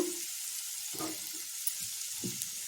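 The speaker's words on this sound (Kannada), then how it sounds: "ಈಗ ಇದಕ್ಕೆ ಹಸಿಮೆಣಸಿನಕಾಯಿ ಮತ್ತು ಬೀನ್ಸ್ನ ಕೂಡ ಹಾಕೊಂಡ್ಬಿಡೋಣ ಇದೊಂದು ಸುತ್ತು ಹುರಿದಾದ್ಮೇಲೆ" Green chillies and beans frying in a pan of oil for a quick vegetable tiffin, a steady quiet sizzle hissing throughout with a few soft low stirring shuffles, no voices.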